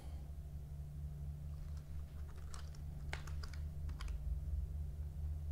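Quick, irregular keystrokes clack on a custom-built computer keyboard in short bursts, faint against a steady low hum of room noise, with no one talking.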